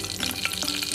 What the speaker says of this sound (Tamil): இப்போ பேனில் எண்ணெய் சூடாயிடுச்சுங்க, கடுகு போட்டுக்கோங்க, பச்சை மிளகா